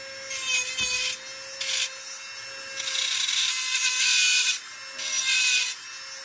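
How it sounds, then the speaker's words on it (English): A cutoff wheel grinds a utility knife blade while it is reshaped into a carving knife, in several loud, hissing bursts of about a second each, separated by short pauses, with a steady tonal whine running underneath. "don't use your cutoff wheels like this"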